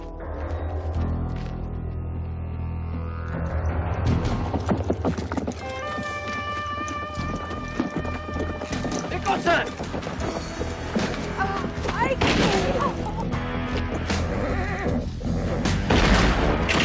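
Horse whinnies loudly amid hooves clip-clopping, with booming thuds and crashes layered into a busy, dramatic mix.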